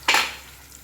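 Peanuts and chana dal being stirred in a pan while roasting for a dhaba-style spinach dish: one quick, close scraping rustle that fades into a quiet background hiss.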